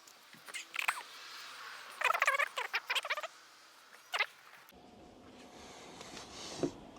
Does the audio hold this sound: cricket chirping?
yes